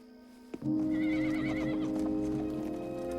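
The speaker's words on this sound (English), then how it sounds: "I'm worried about these horses." A horse lets out a long, loud whinny after a sharp knock, with faint hoof clops and movement beneath it.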